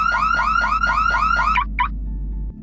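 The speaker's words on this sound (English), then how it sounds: "alarm blaring." Car alarm blaring from a popped-open car trunk in a garage in the horror video game Skinfreak: a loud, rapid run of rising electronic whoops that cuts off abruptly, followed by a short stutter.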